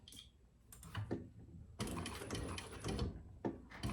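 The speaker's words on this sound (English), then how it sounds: "Just a few stitches, and then go forward." A sewing machine backstitching a leather crossbody bag, close and quiet, with short runs of rapid mechanical stitching separated by brief pauses, no talk.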